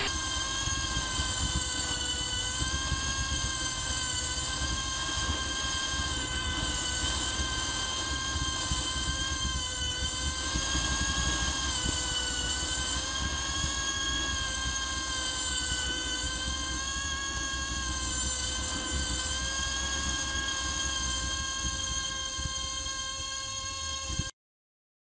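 A nitro-powered engine fitted to a Schwinn bicycle screams steadily at high RPM with the throttle stuck, a loud, close, unbroken whine with a faint rising and falling pitch, then it cuts off abruptly.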